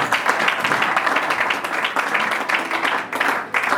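A church congregation claps and applauds during a service, sustained dense clapping throughout with a few voices mixed in.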